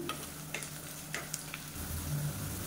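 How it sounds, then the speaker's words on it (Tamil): Onions sizzle and fry in a pan with cashews and salt while being stirred, a steady soft crackle with occasional scraping clinks of the spoon, faint and continuous with no talking. "இப்போ வெங்காயம் நல்லா வதங்கிடுச்சு"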